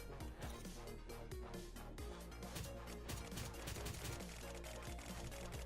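Bombs detonate in the video game Orbox C as a rapid, dense string of popping blasts, quiet and unbroken from start to finish.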